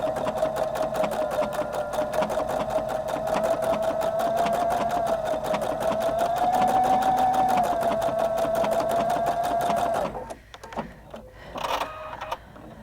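A Husqvarna Viking Designer Brilliance 80 sewing machine stitches a seam in a long, even run of rapid needle clicks and motor hum, stopping near the end before a few light handling sounds.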